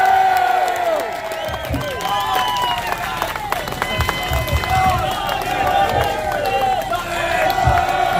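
A rally crowd cheers, shouts and applauds for Tommy Robinson, a loud, steady roar of voices and clapping.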